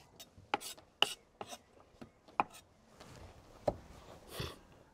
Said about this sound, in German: Wir pressen sie zusammen und schneiden sie dann mit einem Messer.